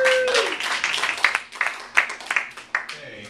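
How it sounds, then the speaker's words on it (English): A comedy-venue audience gives a round of applause, steady dense clapping that fills the room at moderate loudness and tapers near the end. "Let's all give it a nice round of applause."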